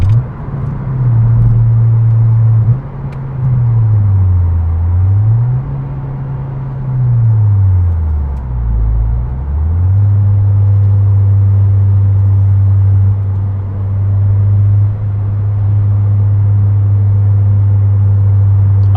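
A 9th gen Honda Civic Si with a Yonaka exhaust cruises on the highway, heard from inside as a loud, steady low drone that dips and wavers briefly before settling back into a constant hum.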